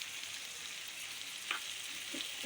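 Bitter gourd fries in a pan, cooked plain without turmeric, giving a steady, close hiss of sizzling oil with a few faint stirring knocks and no talk.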